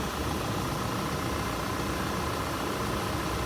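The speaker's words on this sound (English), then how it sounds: "I hear the idle go up, maybe it's the fan cutting on." A 2016 VW Tiguan engine idles steadily during an AC compressor test, a constant low mechanical hum and rumble with no clear change in pitch.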